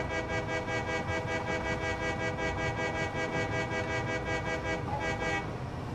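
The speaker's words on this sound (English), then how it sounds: "they brought back the train Easter egg, where if you spam the actual horn," A train horn whistle sounds repeatedly in the video game Satisfactory, a rapid string of steady tonal toots pulsing evenly and fairly loudly for several seconds.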